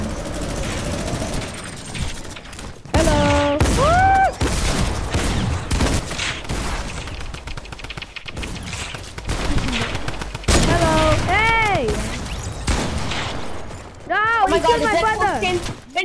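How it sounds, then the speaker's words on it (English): Minigun fire in the video game Fortnite, dense rapid gunfire bursts loud and close, mixed with excited shouting voices throughout. "Mini gun!"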